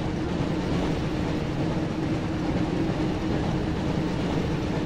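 A train rumbles in the Harry Potter and the Chamber of Secrets PS1 video game, a steady, loud, dense clattering roar without pauses or talk.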